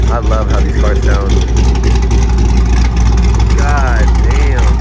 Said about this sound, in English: My favorite Corvette. That's the way it sounds.